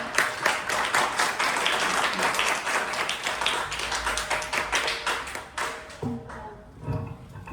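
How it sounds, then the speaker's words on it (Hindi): An audience at an Engineers Day celebration gives steady, dense applause that rolls on for several seconds, then thins into scattered claps near the end. "तालियां बजा दो।"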